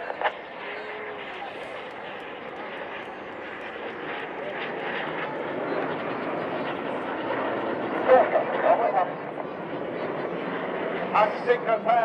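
Red Arrows synchro pair jets flying past at the Blackpool airshow 2025, a steady broad roar that builds slightly toward the end, with a commentator talking over it throughout.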